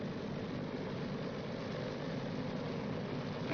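Engines of a WWII B-29 Superfortress bomber run up to 1,500 RPM, a steady heavy droning roar that holds at an even, loud level throughout.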